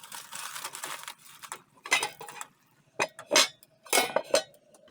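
Metal lid clattering onto a cooking pot of mutton roast: a few close, sharp clinks and scrapes of metal on metal in short bursts, with no talking.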